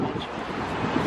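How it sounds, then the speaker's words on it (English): Wind blowing outdoors on a cold, rainy day in Paris, a steady broadband rush with low rumbling gusts that swells slightly toward the end, close to the microphone. "it's windy and cold"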